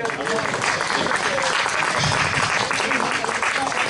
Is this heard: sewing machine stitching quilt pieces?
no